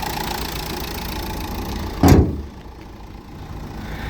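A 2013 Renault Megane with a 1.5 diesel engine of 110 horsepower idles with a steady low rumble, broken midway by a brief louder burst before settling back to a quieter, even idle.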